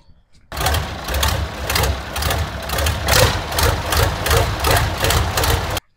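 A tractor engine idles with a steady low rumble and a rapid, rhythmic mechanical chatter, fairly close and continuous after a brief quiet start, with no talk over it.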